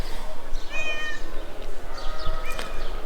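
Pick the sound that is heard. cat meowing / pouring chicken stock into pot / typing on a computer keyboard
cat meowing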